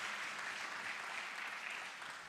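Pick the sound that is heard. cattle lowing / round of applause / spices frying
round of applause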